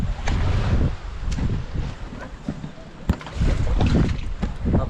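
An outboard boat motor runs steadily at sea, a continuous low rumble mixed with wind buffeting the microphone and water slapping against the hull, loud and close throughout.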